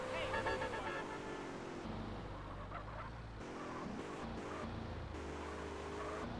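A car arriving in GTA San Andreas, its engine droning and revving at close range with a brief tire-like squeal, steady throughout.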